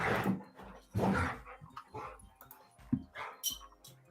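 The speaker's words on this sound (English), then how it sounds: "Damn dogs." Dogs bark and whimper in short bursts close by, loud yips and whines alternating with brief gaps, no talking over them.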